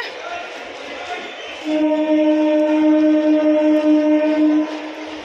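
A local train pulls into Barrackpore station and sounds a loud, steady horn blast for about three seconds. Station rumble and background murmur continue around it.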